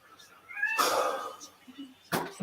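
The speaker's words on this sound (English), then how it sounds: "I've got a cat here. Cat's at the back there." A cat meows in a home, with one short, drawn-out call that rises and falls, close by but not loud. A person speaks nearby at the same time.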